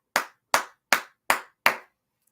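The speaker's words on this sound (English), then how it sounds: "This one deserves a clap." Five sharp, evenly spaced hand claps from a single person, close and crisp, each ringing out briefly in an otherwise quiet room.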